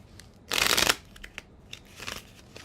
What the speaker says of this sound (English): This is how many times I've shuffled in my life.